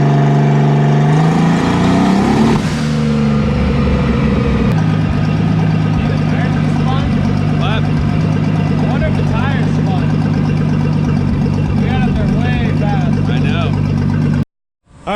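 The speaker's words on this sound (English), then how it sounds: "We're going to make a good pull in second gear all the way up to red line." A Datsun 280ZX race car engine pulls hard in second gear toward redline under boost, a loud, sustained rising roar that climbs steadily for over ten seconds, with a voice talking over it, then cuts off sharply.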